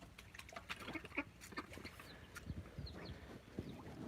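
Baby ducks, grown almost to the size of geese, moving around a new pond with soft peeps and quacks, light splashing and a few faint calls scattered through it, low-level and near.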